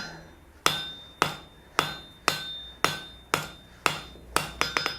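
Hot steel is hammered on an anvil to draw an asymmetrical taper, a loud close run of ringing metallic blows at a steady pace with a quicker flurry of strikes near the end, each tone sustaining briefly.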